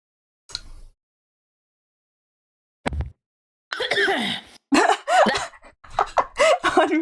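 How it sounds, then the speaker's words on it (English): A single person coughs directly into a microphone, a few close, loud, harsh bursts followed by rapid talking and laughter. "Unmuting just to cough directly in the mic"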